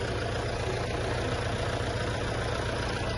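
A tractor engine runs continuously at a steady idle, a dense, loud low rumble with no pauses or speech.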